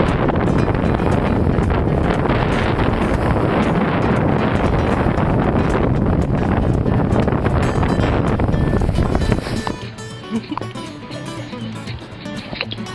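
Strong wind blowing hard, around 29 knots, while sailing on a sailboat, a loud continuous roar buffeting the microphone that drops off abruptly near the end to a quieter background.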